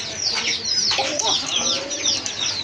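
Pigeons kept for sale, including a pair of running pigeons, fill the air with continuous overlapping cooing and chatter from several birds nearby, with no pauses and no voices.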